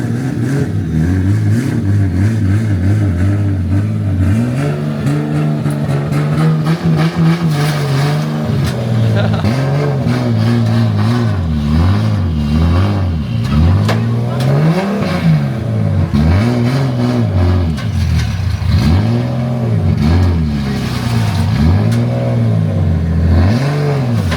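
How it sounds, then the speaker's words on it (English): A BMW E36 drift car with an LS engine revs hard at a Thursday night drift event, its tires spinning on a slippery metal plate. Loud, close engine roars rise and fall in repeated sweeps for the whole stretch. "It's hitting the exhaust, and the tires are spinning on the slippery metal plate."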